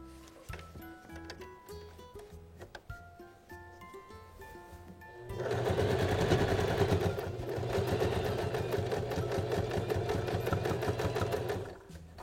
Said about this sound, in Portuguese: Eu vou colocar a alcinha aqui, olha. Desse jeito, e vou passar uma costura.